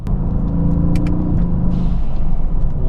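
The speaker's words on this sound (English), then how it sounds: "Ooh, that's a nice blow-off valve. It's a different tone than my blow-off valves." A Mercedes-AMG GT S V8 convertible rumbles under load, then its blow-off valve vents with a short airy hiss over the continuing low engine drone, heard from inside the car.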